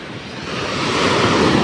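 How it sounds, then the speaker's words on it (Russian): Sea waves at Batumi on the Black Sea, a steady loud wash of surf with wind buffeting the microphone and the roar slowly swelling, with no voices. "Хочу показать вам море, какое сегодня замечательное."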